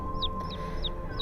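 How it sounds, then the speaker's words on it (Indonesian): Four short, high peeping chirps come at a steady rhythm over a faint background hum, like small chicks calling. "suara anak ayam itu terdengar cukup jauh."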